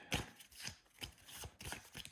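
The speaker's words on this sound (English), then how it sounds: "Let's shuffle these." Board game cards shuffled by hand at a table, a series of close, crisp riffling bursts with brief pauses between them and no voices.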